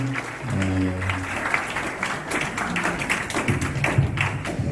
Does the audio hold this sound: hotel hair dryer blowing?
no